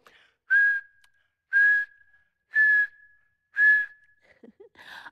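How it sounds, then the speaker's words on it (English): Four clear whistled notes, each a short steady tone with a breathy onset, evenly spaced with pauses between, followed by a softer fluttery whistle at the end. "I've practiced and practiced, and now I can whistle."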